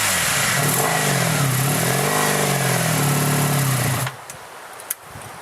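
A Honda Sabre motorcycle engine runs loudly and close, its revs rising and falling for about four seconds before the throttle drops and the engine settles to a quieter, uneven idle, with a couple of faint clicks and no speech.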